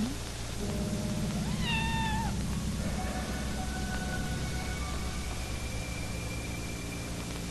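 A single clear cat meow rises and falls near the start, followed by fainter high calls over a steady background hum.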